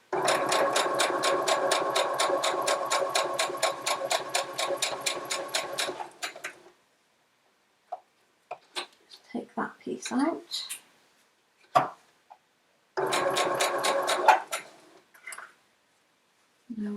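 A sewing machine stitches quilt pieces in two loud, steady bursts, a long run at the start and a shorter one later, separated by quiet handling noises and brief soft talk.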